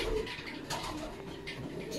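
A pigeon coos softly nearby, a low throaty call repeated briefly against faint background noise.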